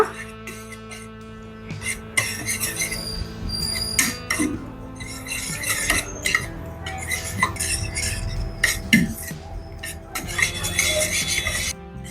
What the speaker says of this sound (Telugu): దీన్ని ఒకసారి మంచిగా కలుపుదాం